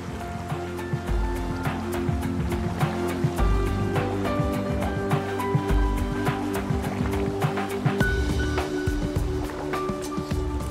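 The Swampy Plains River in NSW, just below where the Geehi joins it, rushes steadily throughout, a continuous close water roar with small repeated clicking ticks on top.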